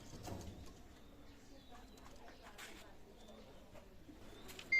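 Soft cooing from Golalal pigeons, low and throaty, repeats faintly against a quiet background with a few light chirps.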